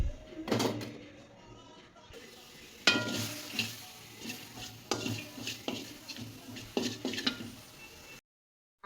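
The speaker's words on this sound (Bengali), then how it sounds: "শুটকিগুলো ভাজা হয়ে গেছে।" Dried fish (shutki) frying in a pan, with a light sizzle under repeated metallic scrapes and clatters of a utensil against the pan, close by, before the sound cuts to silence.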